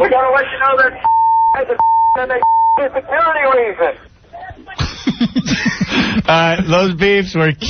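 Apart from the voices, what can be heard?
censor bleeps over radio show audio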